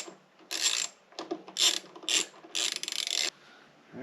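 Screws are backed out of a Briggs & Stratton push mower carburetor with a ratcheting tool, giving several close, crisp bursts of rapid clicking separated by short pauses.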